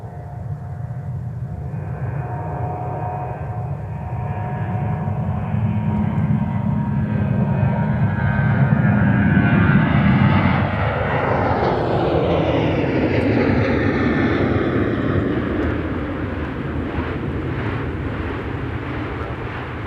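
A Sun Country airliner departs Minneapolis–St. Paul Airport for Orlando, its engines building into a loud, sustained roar that peaks midway and then slowly fades as the jet climbs away.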